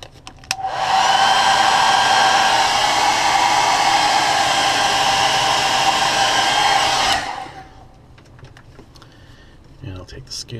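Heat gun blowing steadily to set fresh paint on a shad-pattern crankbait, a loud continuous airy roar that starts abruptly, holds for about six seconds, then cuts off, followed by faint handling noises.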